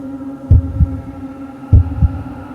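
A pounding heartbeat sound effect in a narrated horror story about a man alone at home, two deep lub-dub double thumps about a second apart over a low droning hum.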